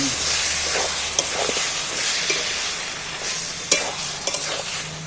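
Jackfruit curry sautéing in a covered pot gives a steady close sizzle and frying hiss, with a few sharp scrapes and clinks of stirring scattered through and no voices.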